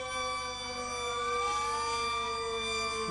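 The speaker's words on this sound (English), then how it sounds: "The purpose of this exercise is to test the siren system of 5x5" A civil defence warning siren system under test in 1960s New Zealand, a steady wailing tone with rising and falling pitches layered over one another, loud and continuous for the whole stretch, with no voices.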